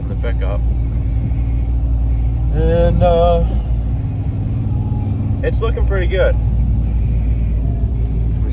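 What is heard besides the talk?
pickup truck driving on a test drive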